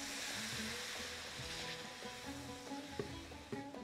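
A garlic tomato sauce with balsamic vinegar bubbles and sizzles softly in a pan, a continuous simmer with a few small pops and a faint clink, no talking.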